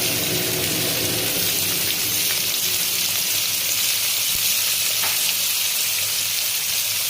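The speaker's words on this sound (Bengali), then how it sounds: "আমার প্রায় ভাজাটা হয়ে গেছে" Pointed gourd fries in ghee with a dense, continuous sizzle close by. The crackle stays loud and even throughout, with faint stirring knocks and no voices.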